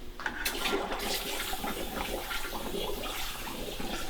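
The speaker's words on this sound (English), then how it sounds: "run some water real quick through the brush" Water runs steadily through a brush held under a tap during taxidermy work on a deer head, a continuous close splashing hiss lasting the whole moment with no talking.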